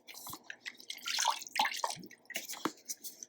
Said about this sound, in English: You're going to put a nice splash of vanilla extract.